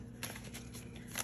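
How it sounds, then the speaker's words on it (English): Tarot cards being shuffled by hand, a rapid riffle of papery flicks and soft slaps in quick bursts, close and quiet with no talking over it. "I was shuffling and cards are flipping out as we speak."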